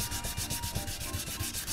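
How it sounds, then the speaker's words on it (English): A sanding block rubbed back and forth over a motorcycle body part on a Honda NS 250 restoration, fast regular rasping strokes, close and steady with no talk. "this is the kind of thing with a sanding block I can take care of"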